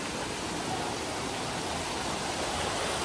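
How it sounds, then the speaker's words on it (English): Water pouring steadily at Ella nature pool waterfall in Sri Lanka, a dense, even rushing roar that stays constant throughout, with no voices. "You hear only the water,"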